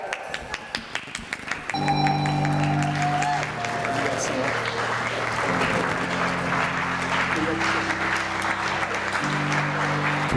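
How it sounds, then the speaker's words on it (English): Wedding guests applaud a speech: a few sharp taps lead into a swell of clapping, with sustained music tones running underneath the applause. "big round of applause for that wonderful speech"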